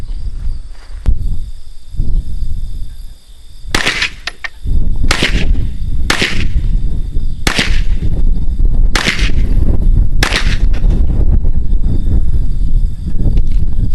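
Sharp gunshots from an Aero Survival Rifle in 9mm fired at milk jugs outdoors, about seven loud cracks spaced roughly one to one and a half seconds apart over a constant background hiss.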